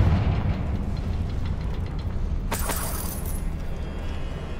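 A Confringo blasting spell in Hogwarts Legacy sets off a sharp burst midway, over a loud, constant rumbling game background. The burst trails into a brief crackling decay.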